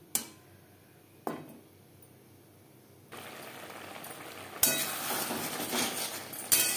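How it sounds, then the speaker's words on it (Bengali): Potatoes being stir-fried with spices in a pan: a couple of sharp utensil clinks early, then a rising, steady sizzle with scraping, close by and without voices. "তিন 4 মিনিট আলুর সাথে মশলা বেশ ভালো করে কষিয়ে নেব।"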